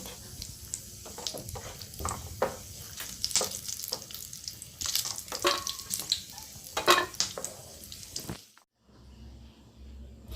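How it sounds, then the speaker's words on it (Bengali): Raisins frying in a pan for Bengali golap polao, a steady close sizzle with scattered stirring scrapes that runs for about eight seconds, then cuts out to near silence before a faint low hum returns. "কিশমিশটা আমি বেশি ভাজবো না, একটুখানি ভেজে নামিয়ে নেবো।"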